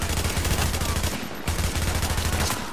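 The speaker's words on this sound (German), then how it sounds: "Ja, das ist ein Sniper." Rapid gunfire from a sniper fight in The Division, a loud continuous barrage of shots with a brief gap midway, no voices.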